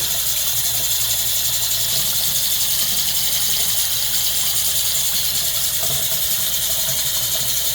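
Water runs from a Pfister Sonterra bathroom faucet in a steady, unbroken hiss that stays at an even level from start to finish, with no voices.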